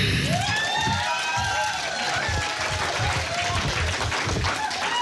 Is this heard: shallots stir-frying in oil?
no